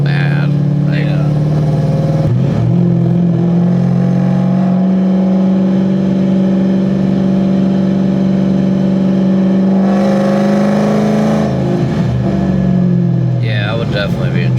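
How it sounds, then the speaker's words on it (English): Tuned Ford Mustang GT V8 exhaust while driving, a loud steady low drone that swells and eases as the engine revs, close and dominant throughout. "just hearing the exhaust too is addicting"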